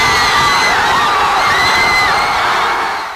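Crowds of De La Salle Green Archers basketball fans on Taft Avenue celebrate a UAAP men's basketball championship win with loud, continuous cheering, whooping and high-pitched shouting, dense and close for the whole moment.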